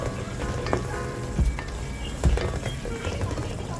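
Fish biryani masala with a splash of lemon juice sizzles steadily in a pan. The frying hiss is continuous, with a couple of soft clinks from a spoon and no voices.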